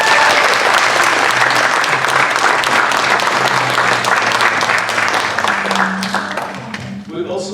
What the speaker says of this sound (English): So let's give them the applause.